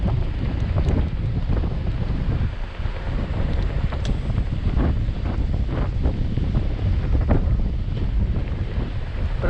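Wind roars steadily past the microphone while riding a Hiboy S2R Plus electric scooter, a loud, constant buffeting rush that fills the whole stretch with no voices.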